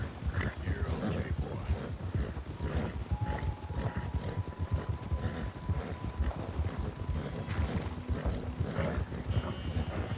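Horse hooves pound out a fast, rhythmic gallop on a narrow trail during a long-distance video game race between an Arabian and a Mustang, steady and close throughout with no talking.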